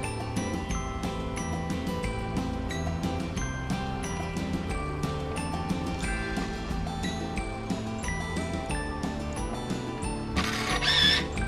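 Nikon Zoom Touch 500 point-and-shoot film camera self-timer running, a steady rapid mechanical ticking and whirring close up for several seconds, ending in a brief brighter beep or shutter burst.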